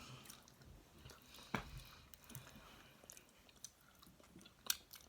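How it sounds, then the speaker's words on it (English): Someone eats sushi loudly, producing soft, wet chewing and occasional crisp bites and smacks scattered irregularly over quiet room tone, close but faint. "Why are you chewing so loud right now?"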